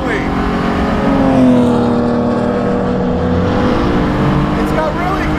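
A BMW Spec E46 330ci race car on track, its engine droning loud and steady throughout with pitch rising and falling through the gears, rough road and tire noise beneath, while a driver talks over it.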